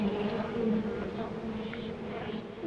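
Dense, continuous buzzing of many honey bees at a hive, close and steady, forming a low droning hum with occasional individual bees passing nearer.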